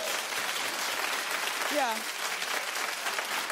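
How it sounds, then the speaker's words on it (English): A television talk-show studio audience claps in a steady, even wash of applause, while one person's voice briefly calls out partway through. "Clap if you think she's equally as adorable."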